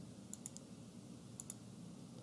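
Computer mouse clicks while drawing in CAD software, two quick bursts of sharp, faint clicks, three and then two, over a low hum in a quiet room.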